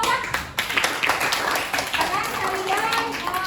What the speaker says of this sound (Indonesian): Tepuk tangan untuk Naura.